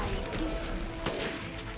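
A gunshot in Resident Evil Village, one sharp crack standing out over a dense backdrop of game noise and rumble.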